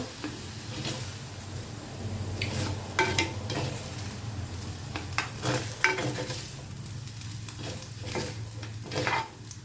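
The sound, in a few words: potatoes frying in a pan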